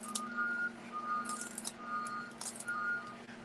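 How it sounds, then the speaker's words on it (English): Repeated electronic reversing beeps from a garbage truck, evenly spaced pulses over a low steady engine hum, with occasional hissy bursts in the background. "If you can hear that noise, I apologise, it's the bin men."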